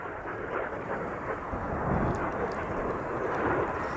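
RAF Red Arrows jets performing a barrel roll at a 2024 Duxford air show, a steady, loud broadband roar of jet engines that swells slightly midway and holds throughout.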